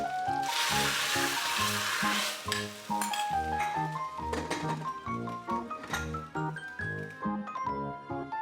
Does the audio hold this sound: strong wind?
no